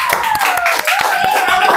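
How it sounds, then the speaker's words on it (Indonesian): Classroom applause for a student group called up to the front, a scattering of sharp hand claps running through the short moment over a steady sustained tone. "Oke, kasih aplaus dulu buat kelompok 2."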